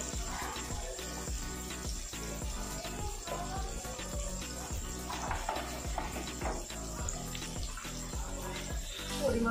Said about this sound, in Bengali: মশলাটা ভালো করে কষিয়ে নিতে হবে।